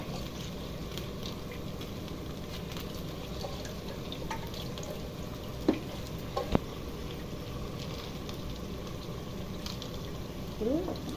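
Chicken pieces go into a pan of fried onions for a chicken fry, giving a steady watery bubbling and simmer with a few sharp clinks, while someone talks over it.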